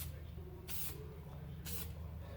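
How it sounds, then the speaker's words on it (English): Two short hissing bursts of glue from a spray can, about a second apart, over a low steady hum, while fitting floor felt on a Rolls-Royce Silver Cloud. "So when I spray my glue in there"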